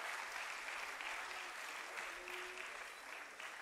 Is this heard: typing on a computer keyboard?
no